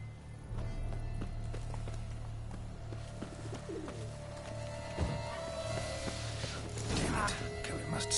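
Roach, the horse in The Witcher 3 Blood and Wine, gallops in repeated hoof clops beneath a low steady hum, with bird coos and a burst of noise near the end.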